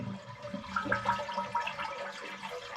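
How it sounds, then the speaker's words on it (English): An old toilet flushes nearby, its water rushing and gurgling steadily down the bowl through the short span, with no voices over it. "And then we're going to flush the toilet."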